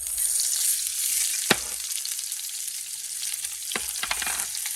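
Cauliflower fries in oil in a wide paella pan with a loud, steady hiss, broken by a few sharp spatula clicks against the metal; no one speaks.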